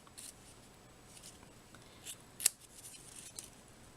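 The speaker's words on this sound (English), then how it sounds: "just going to snip this off" Scissors snipping card stock while making a handmade Mother's Day tag card, a few faint, crisp cuts spaced apart, one sharper snip standing out near the middle, against quiet room background.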